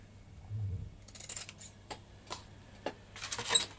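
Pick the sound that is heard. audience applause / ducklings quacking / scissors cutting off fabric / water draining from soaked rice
scissors cutting off fabric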